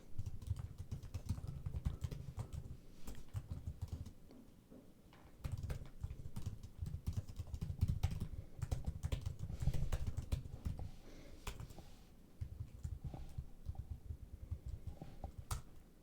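Fast, continuous typing on a computer keyboard, close and clear, with dense clicking in bursts separated by brief pauses and no voices.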